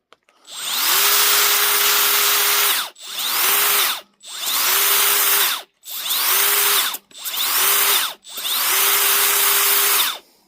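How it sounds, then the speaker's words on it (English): A power sander works over chainsaw-carved wood, running in six loud whining bursts of roughly one to two seconds each, separated by short pauses as it starts and stops. "A little sanding will make that nice and crisp"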